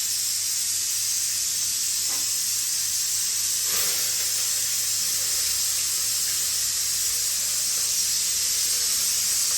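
Onion sizzling in plenty of hot oil in a pan while pav bhaji is cooked, a loud steady hiss that carries on without a break and has no talking over it.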